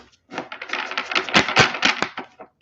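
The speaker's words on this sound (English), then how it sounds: "let's get a few more shuffles going." Tarot cards being shuffled for a love reading, a run of dense riffling snaps and flicks with a few sharper slaps near the end, close and fairly loud with no talking.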